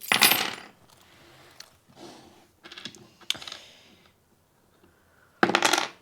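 Small divination charms are cast and dropped onto a surface, making bursts of clattering clicks and tinkling taps separated by brief pauses, with a loud final scatter.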